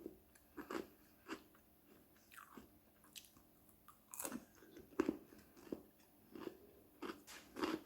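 Thin, crispy stone-baked pizza crust is bitten and chewed up close, producing repeated sharp crunches in an irregular rhythm over a quiet background, with no speech.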